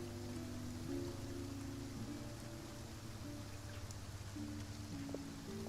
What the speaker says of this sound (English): Oh my God, it's finally raining.